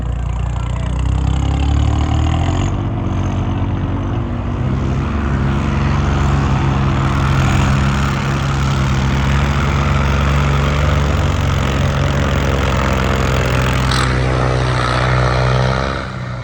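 A loud, steady plough tractor engine drone runs throughout, close and continuous, with a low rumbling idle tone.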